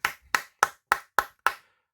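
One person clapping hands six times in a slow, even rhythm, each clap sharp, close and isolated by short silences.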